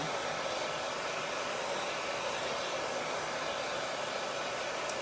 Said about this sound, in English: So I am going to dry this because I'm going to be doing layering.